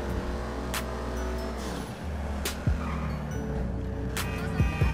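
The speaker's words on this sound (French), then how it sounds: "vous l'entendez, la petite transmission sport là sur la voiture" A sports car engine with a sport transmission in GTA 5 hums low and steady with a few sharp gear-shift pops and revs, fairly quiet and slightly synthetic-sounding.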